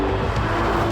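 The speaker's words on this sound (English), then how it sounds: "It's got a huge V12, it's loud" Aston Martin DBS with a big V12, a loud steady engine roar throughout, close and dense with low rumble.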